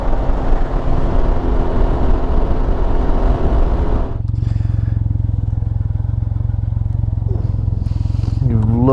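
A Can-Am Ryker climbs a highway hill with a loud, steady engine drone and heavy wind roar, the tone shifting to a smoother, lower hum partway through as the rider tucks behind the shield.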